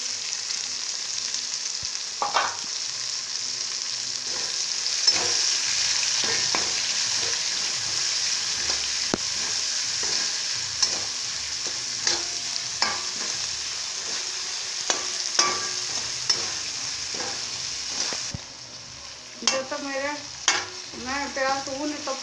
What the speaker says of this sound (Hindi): अब हम कसे हुए प्याज को डाल के अच्छी तरह से सुनहरा लाल तक भून लेंगे